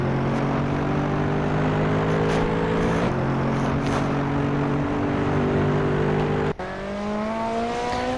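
Toy race car engine in a Hot Wheels video game, a steady high electronic whine with gear shifts and a sharp rise in pitch near the end, loud and continuous with no talking.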